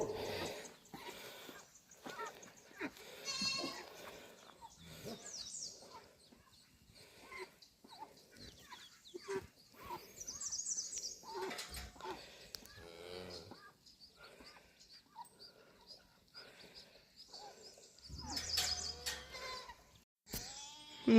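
Goats on a farm during morning chores bleat in scattered, irregular calls, some near and some farther off, across a fairly quiet stretch with occasional faint voices and other farmyard sounds between them.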